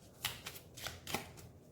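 Tarot cards are shuffled close by in soft, quick riffling bursts, about four brief flutters in under two seconds, quiet and with no talk.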